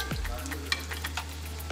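Kerala-style unniyappam frying in hot oil in an appam pan, a continuous soft bubbling sizzle with small crackles, close and fairly quiet.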